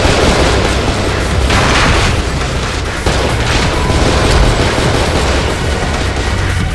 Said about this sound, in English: The grenade launcher does not go very far.